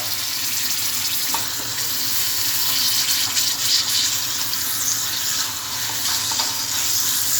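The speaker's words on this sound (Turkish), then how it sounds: "Bu arada kıymamı kavurayım." Minced meat frying in a few spoonfuls of oil in a pan, a steady loud hiss and sizzle that runs without a break, close to the microphone.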